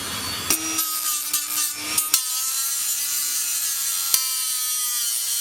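A stuck screw on a bicycle being cut during a strip-down and wash: a few quick rasping strokes of a blade against metal, then a single sharp snap and a steady hiss, close and with no one talking.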